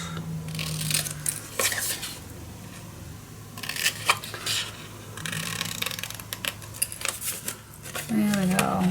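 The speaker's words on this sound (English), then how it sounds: "and then we're just going to cut it out." Scissors cutting out paper for a scrapbook mini album, with several bursts of snipping and rustling paper scattered over the clip and quiet pauses between, close by, alongside a brief voice.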